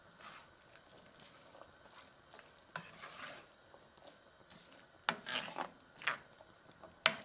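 A spoon stirs a pot of white bean, kale and sausage stew. The stir is soft and mostly quiet with a faint sizzle, then louder scraping knocks come in toward the end.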